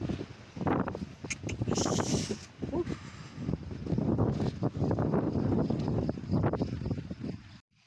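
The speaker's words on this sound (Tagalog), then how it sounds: "Malakas pa rin yung hangin dito." Strong gusts from Typhoon Uwan sweep across a vegetable farm, buffeting the microphone in heavy, uneven surges that rise and fall for several seconds before cutting off abruptly.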